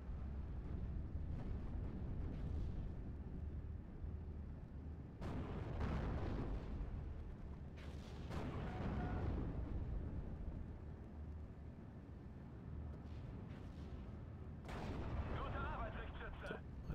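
Rocket air strike explosions from a BF 109 in Steel Division: Normandy 44, several heavy booming blasts spaced out over a low rumbling battlefield background, fairly faint overall with a voice talking at times.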